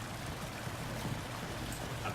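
Water flows steadily in the Vampyr video game, a soft continuous rushing stream heard alone at low level without talk.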